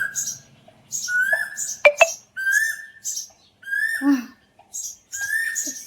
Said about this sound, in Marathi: चिमण्यांचं किती कालवा चालू आहे आणि कोकिळा